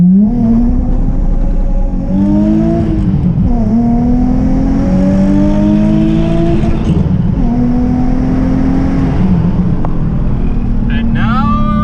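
A mapped Nissan 350Z pulls hard through first and second gear, the engine note rising loudly and close, dipping at the shift, then climbing again before backing off, with some talk underneath.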